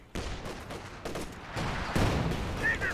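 An MG34 machine gun fires repeatedly in the Company of Heroes 2 video game, with rapid bursts that build louder over a few seconds amid other battle noise.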